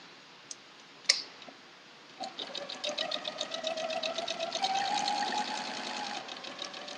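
Sewing machine stitching a quilt sampler block, starting after a couple of sharp clicks and then running in a steady, fast mechanical rattle that gradually builds and stays close and fairly loud.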